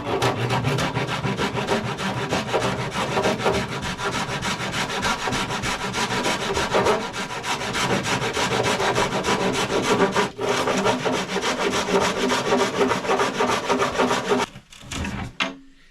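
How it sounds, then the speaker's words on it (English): A rasp scrapes across a wooden boat hatch in steady, rapid back-and-forth strokes, loud and close, continuing almost without pause and stopping abruptly near the end. "It makes sense to try to take the worst of it off, the rasp"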